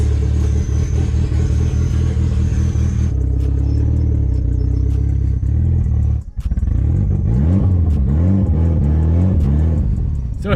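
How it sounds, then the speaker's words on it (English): A Mitsubishi Lancer Evolution VIII engine runs steadily at idle, loud and close, with a few shifts in pitch and a light clatter, as if warming up. "I'm letting the car warm up"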